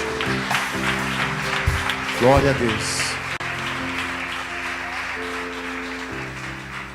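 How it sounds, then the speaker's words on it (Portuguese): A church congregation applauds loudly and continuously at a worship service, while someone speaks and the crowd calls out over the clapping. "Pode aplaudir o Senhor bem forte"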